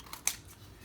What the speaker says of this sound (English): use scissors or an X-Acto knife or a razor blade to cut right along that line